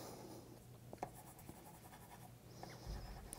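Faber-Castell Gelatos crayon scribbled directly onto paper, giving quiet, close scratchy strokes in quick irregular bursts with faint room noise behind.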